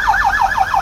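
A wailing siren on a street, rapid repeating up-and-down yelp cycles about five times in under a second, loud and close, over a low traffic rumble.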